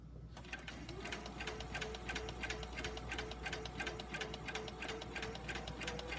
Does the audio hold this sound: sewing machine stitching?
yes